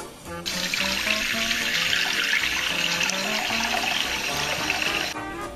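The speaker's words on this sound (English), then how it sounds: "I filled my sink with water" Tap water runs steadily into a sink, a loud continuous rushing splash that fills the whole stretch from start to near the end, with no voices over it.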